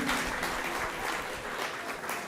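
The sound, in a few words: audience applauding the musicians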